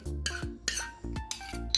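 Crushed garlic scraped from a mortar into a metal bowl, a quick run of sharp metallic clinks and scrapes, close and clear with no talk.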